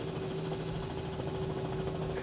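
Helicopter in a flight simulator game hums without pause, a level turbine tone riding on a broad churning rotor rumble, heard alone.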